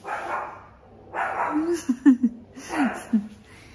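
A dog barks and yips a few times in quick bursts, close by, with a short whine mixed in between the barks.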